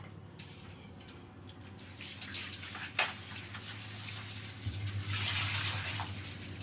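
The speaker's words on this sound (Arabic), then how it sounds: "هغسلها ونقعها في مية" Tap water runs steadily into a sink or basin while potatoes are washed and soaked, a continuous close splashing stream that swells toward the end, with a low steady hum beneath it.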